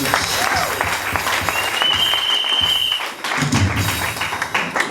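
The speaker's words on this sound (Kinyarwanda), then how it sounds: "Kongere dukomere Imana yacu amashyi." A church congregation applauding during a worship service, a dense sustained burst of clapping that fills the room, with a brief tonal whistle partway through and some thumps near the end.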